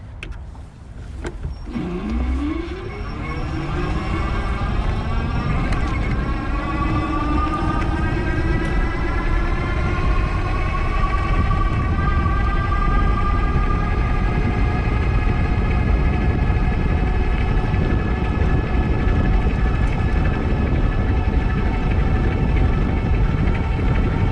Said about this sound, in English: I'm gonna do the throttle this time to really max out power from that motor and give you guys some feedback on what it sounds like